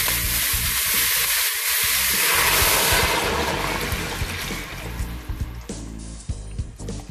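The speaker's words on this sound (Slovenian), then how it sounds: "Znači ne treba previše da se prži i dodajemo na to vodu." Water poured into a pot of frying carrots and ginger for a vegan cream soup, a loud hissing sizzle that gradually settles into a softer bubbling simmer.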